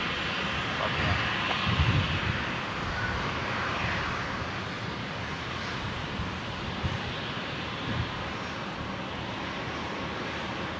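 A Rex Boeing 737-800 arriving from Sydney and landing on runway 01 right at Brisbane International Airport, heard as a steady, broad engine roar held at constant loudness throughout, with wind noise on the microphone.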